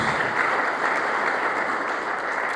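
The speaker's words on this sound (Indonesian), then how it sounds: "Beri tepuk tangan terbaik buat Tuhan Yesus." Dense, steady clapping fills a church as the congregation applauds during a sermon, close and uniform for the whole stretch with no voices over it.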